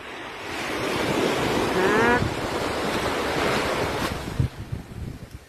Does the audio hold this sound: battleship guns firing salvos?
no